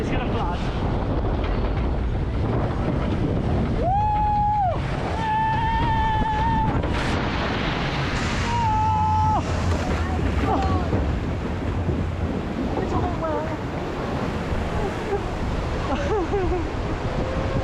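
A boat on the Water Fun Factory ride at Pleasurewood Hills theme park splashes through water in a steady, loud rush of spray and churn, with voices shouting and squealing over it throughout.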